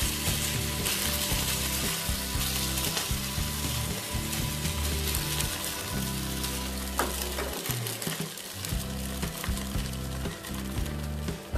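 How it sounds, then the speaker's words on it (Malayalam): Beaten egg for a Kerala-style omelette frying in a hot pan, a loud continuous sizzle with crackling and a faint rhythmic mechanical patter, steady for the whole stretch with a brief dip near the end. "എന്നിട്ട് അതിലേക്ക് മുട്ട ഒഴിച്ചു കൊടുക്കാം."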